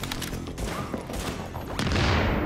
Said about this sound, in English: Oh shit, how about two grenades?